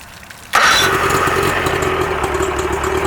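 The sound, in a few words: Mercury 50hp outboard engine starting on a SunTracker pontoon boat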